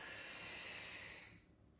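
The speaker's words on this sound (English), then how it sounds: "Some people do pursed lips as they breathe out." A single long, soft pursed-lip exhalation during a Pilates breathing exercise, a close, steady breathy hiss that fades after about a second and a half.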